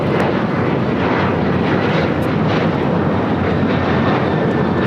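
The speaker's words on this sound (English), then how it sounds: "That was Delta Airlines 615 taking off to Cancun on the 737-900ER." A Delta Airlines Boeing 737-900ER roars loudly on its takeoff roll and climb out of LAX, a dense, constant jet thunder filling the whole stretch with no voices over it.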